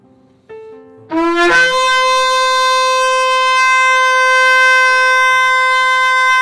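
A single long, loud shofar tekiah gedolah blast with a rich, steady buzzing tone that rises at the start and holds for several seconds after a few short lower notes.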